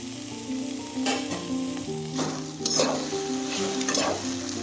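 Okra (ladies finger) frying in a spoonful of oil for palya, a steady close sizzle throughout with several scraping strokes of a spatula stirring the pan, no talking.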